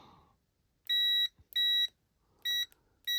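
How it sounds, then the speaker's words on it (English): Sharp, high electronic beeps from a cheap red bike light ring out four times at uneven intervals as its button is pressed, each lasting about a third of a second, with near silence between them. "I'm pressing the button whenever you hear it beep"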